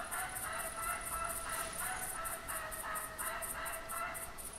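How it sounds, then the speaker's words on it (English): A wild turkey hen calls in the hunting video game theHunter, a series of repeated, evenly spaced high yelps over a dense, steady outdoor ambience with no talking. "Got that hen calling."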